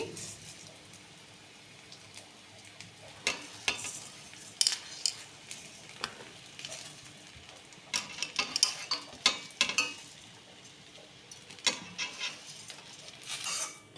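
Washed, drained rice being fried and stirred in a pan for polao, with irregular scraping and clinking of a utensil against the pan over a faint sizzle, bursts of stirring spread across the whole stretch.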